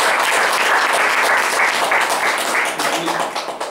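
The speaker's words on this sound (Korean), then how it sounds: "박수 한번 하겠습니다." Loud, sustained audience applause at a university collective-intelligence discussion forum and workshop in Korea, a dense burst of clapping that holds steady and then tapers off toward the end.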